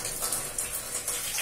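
Warm tap water gushes steadily into a bathtub, a constant nearby hissing splash with small fluctuations and no voices.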